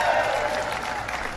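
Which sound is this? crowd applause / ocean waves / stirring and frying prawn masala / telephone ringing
crowd applause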